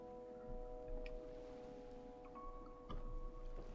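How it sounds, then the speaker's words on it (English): Rain falls steadily in the Fallout 4 game world on Spectacle Island, a faint continuous hiss under a low steady tone, with a few soft distant rumbles. "Of course it's raining."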